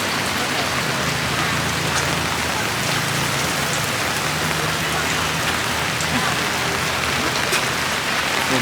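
Heavy storm rain pours down steadily on a busy outdoor market, drumming densely on a surface with a constant hiss that never eases.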